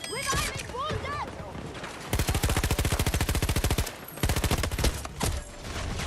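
Automatic weapons fire in a Battlefield 6 battle comes in loud rapid bursts: one long sustained stream in the middle, with shorter volleys around it, mixed with other combat noise and voices.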